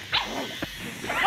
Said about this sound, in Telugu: కుక్క పిల్లలు వచ్చి వెనక కొట్లాడుకుంటున్నాయి.